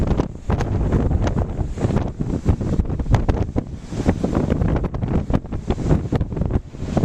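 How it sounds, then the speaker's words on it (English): Strong blizzard wind gusts in Anchorage roar and buffet the microphone continuously, loud and close, with rumbling surges throughout and no voices. "There's a good gust."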